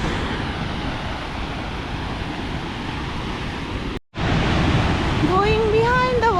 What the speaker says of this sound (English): Going behind the waterfall.